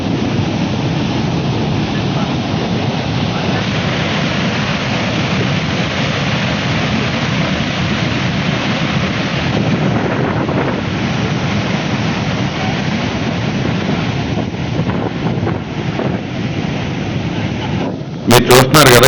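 A powerful waterfall at the grand canyon of Jagdalpur, rushing as a loud, steady broadband roar with wind buffeting the microphone, constant throughout before a few brief knocks at the end.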